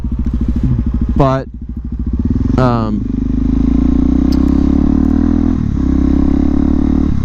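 A Suzuki DRZ motorcycle engine runs loud and close with a steady idle and slight revving throughout, while someone talks over it.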